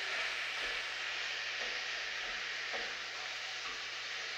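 Meat crumbles in a frying pan give off a continuous, fairly quiet sizzle, with faint stirring scrapes through it.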